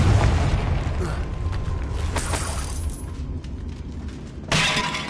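A Confringo blasting spell explodes in Hogwarts Legacy, a loud, crackling, shattering burst that rumbles and fades, followed by a second sharp blast near the end over steady low game noise.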